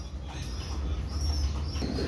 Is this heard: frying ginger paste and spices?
no